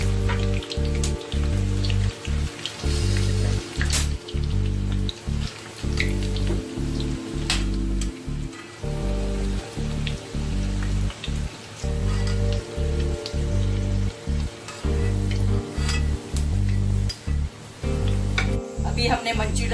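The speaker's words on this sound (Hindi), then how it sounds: "देखो ऊपर आ रहा है, मीन्स तेल गरम हो गया है। बस अब इसको फ्राई कर रहे हैं" Manchurian balls frying in hot oil for a Manchurian gravy: a steady, dense sizzle with crackling pops continues throughout, close up, over a strong low rhythmic thumping background.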